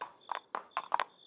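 Hooves of a horse under an approaching rider clop in a quick run of about five hard strikes in the animated Revolutionary War-era series Liberty's Kids, close and clear with no talking.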